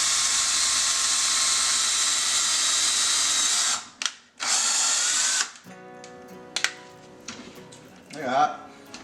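A power drill whines steadily while drilling into a cabinet drawer for handles, stops briefly, runs again, then cuts off; afterward a few clatters and a voice are heard.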